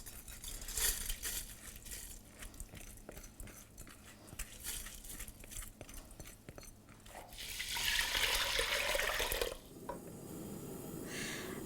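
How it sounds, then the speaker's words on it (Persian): Water poured into a pot of soaked rice for Iranian sholeh zard, a steady rushing splash building for about two seconds near the end, close and fairly loud, with kitchen clatter before it and no talking. "من این برنجم رو میریزم توی قابلمه و یه مقداری آب میریزم"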